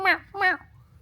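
A voice imitates a cat, giving two quick high "meow" sounds in close succession, up close and alone.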